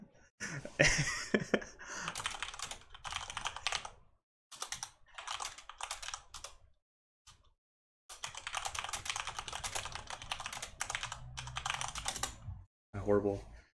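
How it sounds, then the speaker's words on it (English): Computer keyboard typing in irregular bursts of rapid key clicks, separated by short pauses, with a little talk mixed in. "Horrible typing skills."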